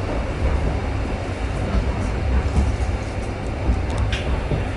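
Inside a new barrier-free train in Hokkaido, a steady low rumble and hum of running rail travel continues evenly throughout, with no voices.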